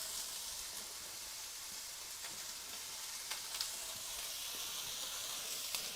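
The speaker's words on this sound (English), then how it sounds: "let them sit there for a minute or two to kind of hopefully get a nice sear on them" Meat sears in a hot pan with a steady bright sizzle and hiss and an occasional sharp pop, quiet and continuous throughout.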